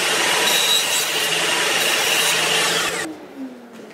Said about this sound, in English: now I can use the saw to cut out what's in between